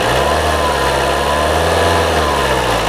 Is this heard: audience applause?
no